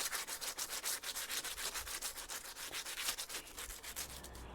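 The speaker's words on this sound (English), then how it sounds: "Next thing I want to do is just take some 80 grit sandpaper and we're just going to clean up all of these edges." 80 grit sandpaper rubbed by hand along the edges of a cast concrete dome, making steady rhythmic scratchy back-and-forth strokes, close but quiet, with no talking.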